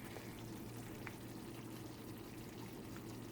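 Taco meat frying on a stovetop, seasoned with McCormick taco seasoning: a faint, steady sizzle and crackle that runs unbroken throughout, with no one speaking.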